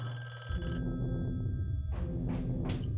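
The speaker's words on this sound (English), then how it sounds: "the phone began to ring once more" A telephone rings in a house, its bell sounding in a couple of bursts over a low steady hum, moderately loud and with no one speaking.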